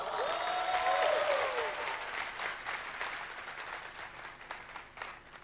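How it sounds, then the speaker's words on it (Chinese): An audience at a business seminar breaks into warm applause for David, a dense wash of many hands clapping that starts strong and slowly thins over several seconds, with a high whistle-like sweep near the start. "那我们掌声给 David 好不好？"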